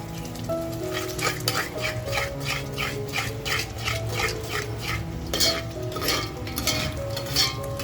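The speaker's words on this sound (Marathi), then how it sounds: "आपल्याला तेल सुटेपर्यंत आहे ना खमंग मसाला परतवून घ्यायचा आहे" Spicy village-style mutton curry masala sautéing in oil in a pan, a steady close sizzle with repeated scraping strokes of a stirring spoon in a regular rhythm, and a faint low background hum.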